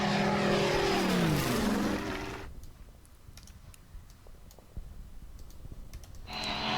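A propeller airplane flies over the map in the World War II strategy game Order of Battle: Pacific, a loud engine drone that fades into quieter ambience with scattered clicks before the roar returns at the end.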